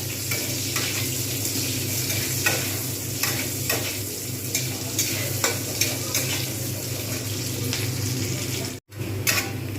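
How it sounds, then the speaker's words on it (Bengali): Onion and cumin frying in hot oil in a pan for a Bengali rui fish head and bottle gourd dish, a steady dense sizzle running throughout with occasional stirring scrapes, close and loud, with a brief dropout near the end. "এবারে এতেই দিয়ে দেবো পেঁয়াজ যেহেতু জিরেগুলো ভাজা হয়ে গেছে"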